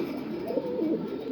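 Egyptian pigeons, Ghazzar birds kept for sale, coo in a steady, low, warbling murmur that rises and falls continuously at close range with no pauses and no talking.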